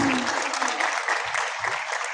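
Loud, dense applause from a concert audience at a 2024 Rachuli dance performance, honoring the ensemble leaders with steady clapping that fills the whole stretch without a break.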